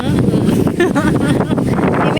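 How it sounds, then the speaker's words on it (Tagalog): Strong wind buffeting the microphone, a steady roaring rush with voices talking underneath. "pagkanindot sa hangin"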